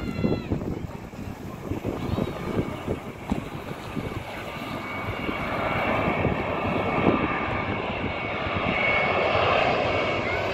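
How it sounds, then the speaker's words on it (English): Jetstar Airbus A321-231 jet at night, its engine roar building steadily from a broad rumble into a louder, sustained whine with wind noise on the microphone, no one speaking. "Here now is a Jetstar Airbus"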